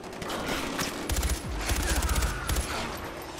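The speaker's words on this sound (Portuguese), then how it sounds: "eu não tô nem vendo de onde tá vindo o tiro" Automatic gunfire from the video game Far Cry 4 rattles in loud rapid bursts over steady game background noise, with several distinct volleys and no pause between them.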